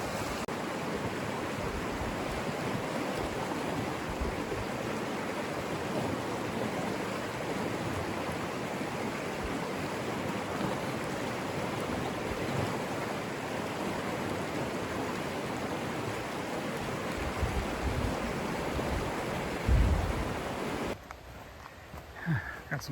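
Creek water along the Palisades Creek Trail in January, a steady close rushing and burbling flow filling the whole stretch, loud and continuous, dropping abruptly quieter near the end as the position shifts.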